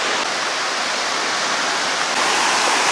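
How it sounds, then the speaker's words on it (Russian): Sea waves wash onto a soft sandy beach on Koh Phangan, Thailand, a continuous broad hiss of surf that swells slightly toward the end, loud and steady. "Волны."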